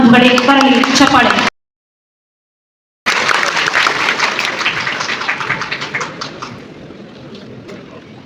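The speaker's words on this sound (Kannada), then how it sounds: "ಬರಲಿ ಚಪ್ಪಾಳೆ" A hall audience at a Democracy Day event with the Karnataka Chief Minister claps after a voice on the public address finishes, a dense burst of applause that gradually fades out.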